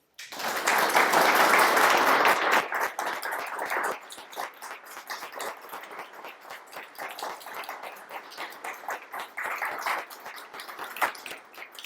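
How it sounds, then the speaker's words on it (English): An audience at a World War II retrospective event gives a round of applause for a veteran, a strong burst of clapping that quickly settles into steady, moderate applause lasting about ten seconds. "Would you give a round of applause to Mr."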